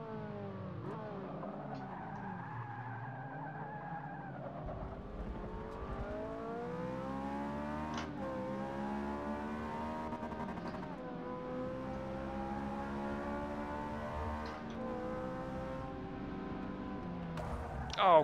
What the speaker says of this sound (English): That rev limiter comes way before I'm expecting it.